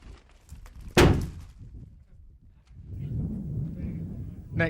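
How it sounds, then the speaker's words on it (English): A single loud, sharp blast from a grenade set off by Royal Marines during a raid on a drug compound in Afghanistan, a sudden broadband thump followed by a lingering low rumble and background movement. "Grenade!"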